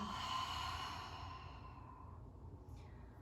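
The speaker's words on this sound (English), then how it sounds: "Audible exhale" A single long, audible exhale during a breathing exercise in a hip-focused yoga session: a close, breathy rush of air that slowly fades over about three seconds.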